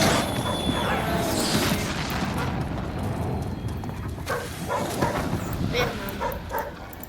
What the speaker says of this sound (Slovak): keď hodíte ku sebe, vyvoláte toho psa